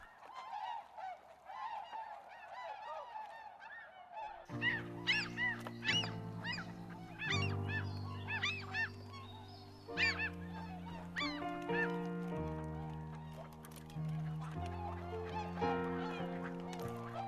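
A flock of migratory birds, likely geese, honks repeatedly at the Achikolsky Lakes in Dagestan. Overlapping calls come close and loud, and a few seconds in, a low, tonal musical bed joins beneath them.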